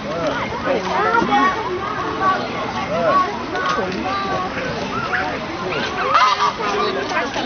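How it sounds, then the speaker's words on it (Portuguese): Geese or ducks honk and quack in a busy, loud cluster at a city park lake where capybaras roam, with people talking and murmuring throughout. "Ah, pato."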